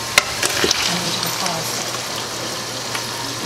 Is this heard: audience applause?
no